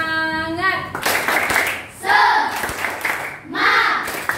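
Schoolchildren in an Indonesian primary classroom do the rhythmic tepuk semangat spirit clap, chanting between short, loud bursts of clapping in a patterned beat. A voice speaks briefly before the claps begin.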